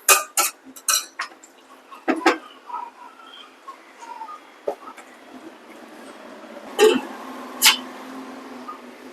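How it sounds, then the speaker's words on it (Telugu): Minced mutton keema goes into a pan of deep-fried onions and mint for a Chennai-style curry, and a utensil stirs it with sharp metallic clinks and scrapes, some spaced, some in quick bursts, over a faint sizzle. "ఇప్పుడు కీమా వేసేసారు."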